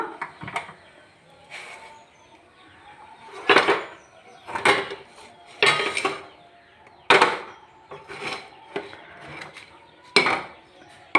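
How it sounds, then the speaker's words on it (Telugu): Cooked ragi flatbread made with snake gourd being lifted off the stove pan onto a plate, several sharp scraping clinks and taps spaced a second or so apart, close and fairly loud with no talk. "ఇప్పుడు స్టవ్ ఆఫ్ చేసేసి ప్లేట్లో తీసుకుంటున్నా"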